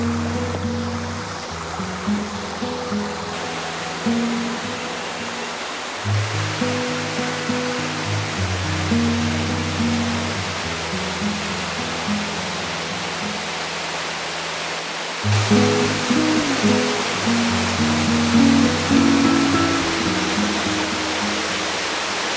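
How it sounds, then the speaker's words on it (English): Small cascading waterfall at Carter Caves, Kentucky, giving a steady broadband rush of falling water that stays fairly loud and continuous throughout, with a faint low tonal hum running beneath it and no voices. "It's like a little cascading waterfall."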